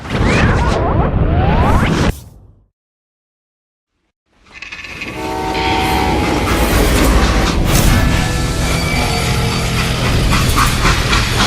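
A loud rumbling train in the video game Call of Juarez: Gunslinger, with clattering and whooshing, cut by about two seconds of total silence before the heavy rail noise returns and continues.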